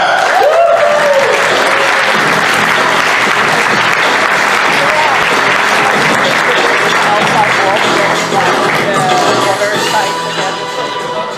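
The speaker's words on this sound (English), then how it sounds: "Please give a big round of applause to Mr. Andrew Turnbull and Mr. Chris Carter." Loud, sustained audience applause fills the room at the TFNation convention, a dense roar of clapping from a large crowd that fades slightly near the end.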